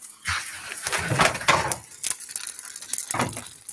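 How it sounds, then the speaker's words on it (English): Navajo bread frying in a hot pan, crackling sizzle with irregular pops and spits at close range, no talking. "And here it's sizzling."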